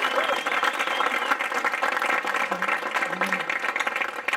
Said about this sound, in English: So a massive round of applause for these two leaders.